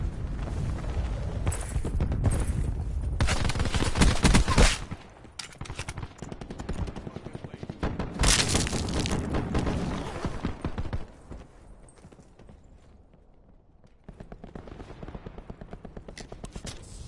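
Pistol shots ring out in Call of Duty: Black Ops 4, with sharp, loud bursts of gunfire and impacts clustered in the first half, then quieter game ambience afterward.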